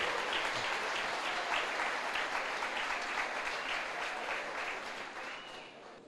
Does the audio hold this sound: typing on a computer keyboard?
no